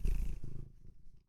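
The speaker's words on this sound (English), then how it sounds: "You might be able to hear him purring," A pet cat purring close by, a low rumbling burst that fades quickly into near silence after the first half second.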